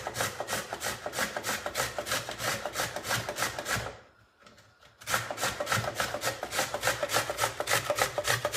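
A beet is grated on a vintage 1969 hand grater in quick rhythmic rasping strokes, close and loud, with a brief pause midway before the steady scraping resumes.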